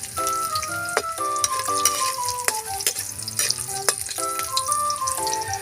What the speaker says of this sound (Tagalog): Isabay lang natin itong ating luya sa ating bawang.